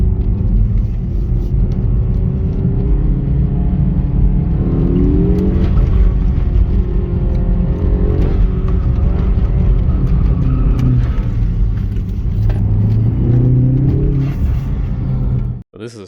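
A Mazda with i-ACTIV all-wheel drive entering a roundabout, its engine rumbling loud and close with engine revs rising and falling as it turns, while a driver speaks over it.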